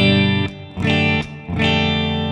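An electric guitar runs through a Digitech RP355 multi-effects pedal on a Twin Reverb amp model, sounding rich sustained chords with reverb, three strums that ring loud and clear on their own.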